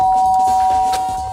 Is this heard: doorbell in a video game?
yes